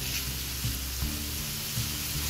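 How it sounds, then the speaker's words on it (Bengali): Shrimp fry in a pan for a Bengali banana-flower dish, giving a steady close sizzle with a few soft stirring knocks, and no one speaks. "এখন চিংড়ি মাছটাকে আমি আর 2 মিনিটের মতো ভেজে নিচ্ছি"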